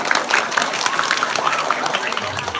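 Dense, steady applause rises from the crowd at a Balinese calonarang performance at Pura Dalem, Desa Adat Umanyar, Bangli, Bali, a continuous wash of clapping with no pauses.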